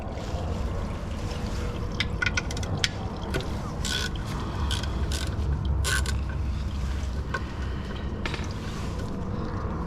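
Bolts come out of the transmission pan on a Nissan CVT from a Versa Note or Sentra, with scattered metallic clicks, ratcheting and rattles over a continuous low workshop hum.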